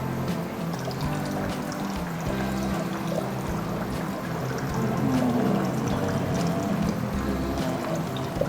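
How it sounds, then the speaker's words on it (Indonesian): Water stabilizer is poured into a fish tank, a continuous trickling, splashing pour into water that grows slightly louder midway and runs steadily for several seconds, with no one speaking. "kita tuang water stabilizer dulu."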